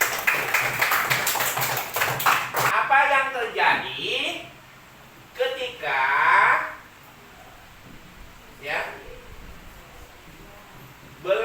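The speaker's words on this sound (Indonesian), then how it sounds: "Oke, tepuk tangan dulu." A fifth-grade primary school class claps in a burst of quick, rapid hand claps at the start, followed by a teacher speaking in the classroom.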